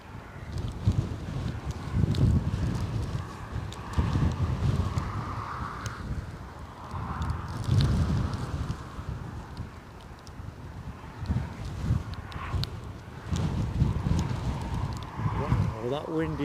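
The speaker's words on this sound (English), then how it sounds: "that wind is whipping back up" Strong crosswind buffets the microphone at Newcastle Airport on a snowy day, with a continuous low roaring rumble that surges and eases in gusts, partly under talk.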